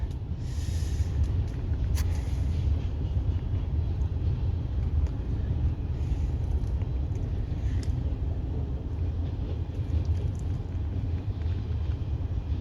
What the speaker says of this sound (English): Well, we got to stop for this train.